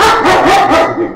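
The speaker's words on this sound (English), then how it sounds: "Please grab the dog." A dog barks loudly and close by, three or four quick yelping barks in a rapid rhythm, sounding alone with no talk over them.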